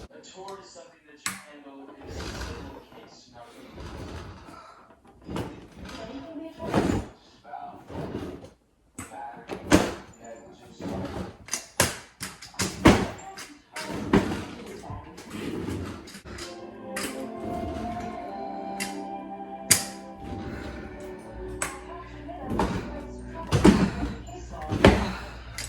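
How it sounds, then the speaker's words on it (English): Indoor door being closed and locked, a series of sharp knocks, clicks and thumps scattered through a long stretch with someone talking throughout. "I do have to get up to close this door and lock it"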